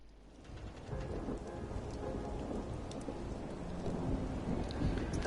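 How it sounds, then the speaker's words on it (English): Steady rain pours in Dishonored 2's Edge of the World mission, a dense continuous hiss with low rumbling, growing slightly louder, with no voices. "it's starting to rain"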